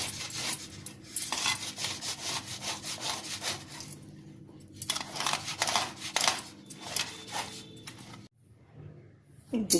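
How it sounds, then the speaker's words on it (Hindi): Boiled, peeled potatoes are grated by hand with rhythmic, close rasping strokes in repeated bursts, with short pauses between runs. "छील के कद्दूकस करेंगे इसको। देखिए हम कद्दूकस कर लेंगे।"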